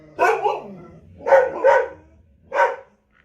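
Several dogs bark in short bursts indoors, a pair of barks near the start, two more in the middle and one at the end, fairly loud and close with no talking.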